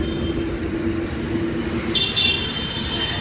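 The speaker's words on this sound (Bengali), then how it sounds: "দ্বিতীয় আর একটি local train, Medinipur two Howrah যাওয়ার যে লোকাল যাচ্ছে" A Medinipur–Howrah local passenger train rolls past with a steady low rumble and hum, and a brief high metallic squeal rises partway through.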